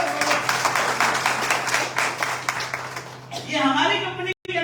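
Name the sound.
audience applause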